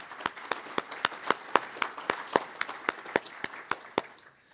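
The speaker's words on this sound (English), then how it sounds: "Let's give them a round of applause." A small audience at the Utah Lake Symposium claps for sponsors in a sparse round of distinct, fairly quick hand claps, each crisp and separate, moderately close, tapering off and stopping near the end.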